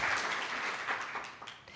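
An audience at a sponsored evening event applauds, a brief burst of dense clapping that stays fairly steady and then tapers off slightly.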